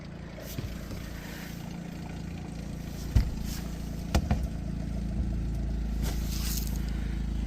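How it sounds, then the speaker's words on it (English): An RV water pump hums steadily during winterizing, a continuous low mechanical drone with a few faint clicks and knocks over it. "Thought it would pump faster than that."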